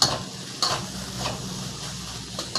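Soft hiss of rice with fermented pork sausage frying in a hot wok, with a few light scraping stirs at irregular moments.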